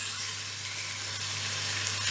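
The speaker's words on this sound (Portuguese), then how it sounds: "E aqui fritar com a própria gordura deles mesmo." Calabresa sausage sizzles in its own rendered fat in a pan, a steady close crackling hiss over a low constant hum, with no one talking.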